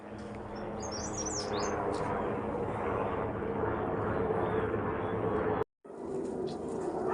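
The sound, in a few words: helicopter flying overhead with birds chirping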